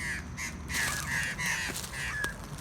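Birds, including a magpie, give harsh, repeated warning cries at a carpet python, several raspy calls in quick succession at moderate distance.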